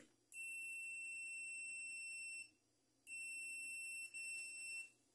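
A multimeter on its continuity or diode setting gives two sustained electronic beeps, each about two seconds long with a short gap between them, while its probes test a Mallory TS 40 fan. The beeps are clear and steady, with no talking.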